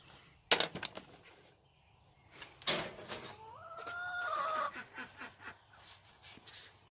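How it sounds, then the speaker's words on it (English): A red hen clucks a few times at close range, with short rising vocal calls in the middle of the clip amid some handling knocks and thumps. "There's my chicken."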